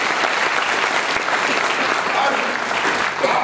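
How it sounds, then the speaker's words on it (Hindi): A crowd at a motivational sales seminar breaks into dense, loud, sustained applause that keeps a steady roar of clapping from start to finish. "यस, उनके लिए जोरदार तालियां।"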